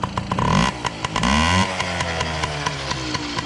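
A 1995 Yamaha PW mini motorcycle engine runs loud and close while warming up. It gives a sharp rev, then settles into a steady, rapid two-stroke idle with a rhythmic putter.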